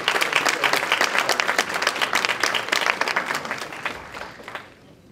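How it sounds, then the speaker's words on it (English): Audience applause for the planning committee at a 2019 MLK prayer breakfast in Ward 8, Washington, D.C.: dense, loud clapping from a room of people that tapers off and fades out near the end. "So can we give a round of applause to the Planning Committee?"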